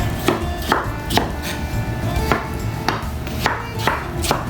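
Fresh tomatoes are chopped with a knife on a cutting board, about a dozen crisp, evenly spaced thuds close by, with no talk.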